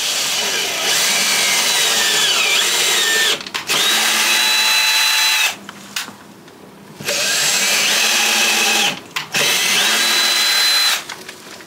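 A power drill drives screws to fix a handle onto a window during a French cottage renovation, a loud, close whine in three long bursts with short pauses and brief stop-start blips between them.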